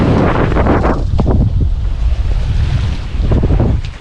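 Gusty wind buffets the microphone aboard a sailboat under sail without the engine in the Balearic Islands, in a light breeze of about 8 to 9 knots, with water rushing and splashing against the hull throughout and no talking.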